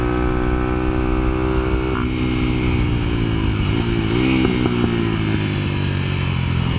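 A highly modified Kayo MR125 motorcycle on a kart track holds a steady, loud engine drone throughout, with the pitch dipping and shifting as the rider eases off and rolls back on through a corner.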